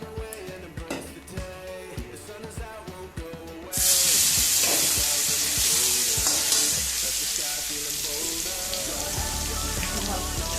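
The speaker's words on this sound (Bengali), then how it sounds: "এবার পনিরগুলো ভেজে নেব" Paneer dropped into hot oil in a kadai: light tapping and stirring at first, then a sudden loud burst of crackling sizzle that settles into a steady, close frying hiss.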